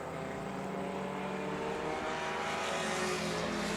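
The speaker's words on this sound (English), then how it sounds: "And the Porsche comes across the line now." Race cars at Virginia International Raceway, including a Porsche, cross the finish line with a steady, loud engine roar throughout, swelling slightly toward the end.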